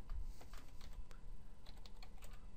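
Keys tapped on a computer keyboard while a command for a Windows 10 boot setting is entered: quick, irregular clicks, fairly close, over a steady low background hum, with no talking.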